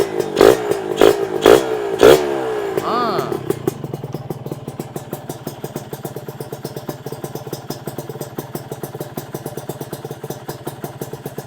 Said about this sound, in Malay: Ini baru betul motor, geng. Timing pun sedap.